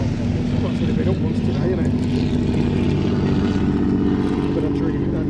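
A Bristol Fighter biplane's piston engine drones steadily as it departs at an air show, a continuous rumble beneath a man's speech.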